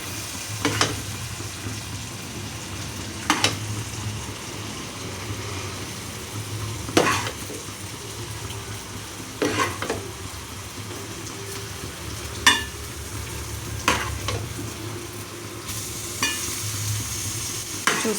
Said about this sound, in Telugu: నేను చికెన్లో రైస్ అయితే వేసేసానండి, బాయిల్ చేసిన రైస్ అయితే.